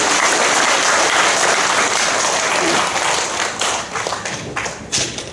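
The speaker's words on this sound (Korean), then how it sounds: "우리 하나님께 한번 영광의 박수 한번 돌리시겠습니다" A church congregation at a Thanksgiving service in a large auditorium bursts into loud, dense applause that holds steady, then thins into scattered claps and thumps toward the end.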